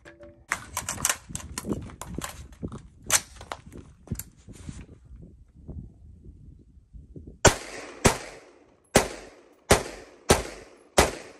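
Rifle shots from an AR-15 with a KM Tactical 20-inch Marksman upper, starting as irregular crackling reports and ending in five sharp, loud, evenly spaced shots ringing out alone.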